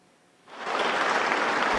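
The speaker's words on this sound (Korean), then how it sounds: "공산당원 수백 명의 박수를 받으며 시진핑 주석이 들어옵니다" Hundreds of Communist Party members break into applause as Xi Jinping enters, the clapping swelling suddenly from a quiet hall into a dense, loud, sustained roar.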